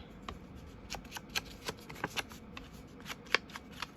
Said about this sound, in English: let me just cut this down slightly, just so it's slightly thinner to get into the pocket